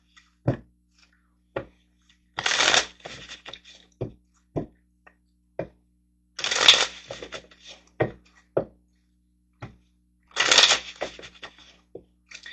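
Tarot cards shuffled by hand in three dense riffling bursts, separated by sharp taps and knocks of cards against a surface; close, clear and alone without talk.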